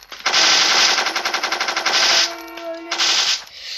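A toy gun fires during army men play, giving a loud rapid machine-gun burst of evenly spaced shots, a brief pause, then another burst, with no talking.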